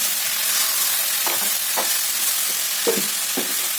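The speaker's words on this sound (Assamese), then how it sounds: "ঢাকনিখন আঁতৰাই মই আকৌ ভালকৈ এতিয়া মিক্স কৰি দিম।" Banana flower (koldil) curry sizzles steadily in a pan as a spoon stirs it, giving a constant hiss broken by several short scraping strokes, close up and with no speech.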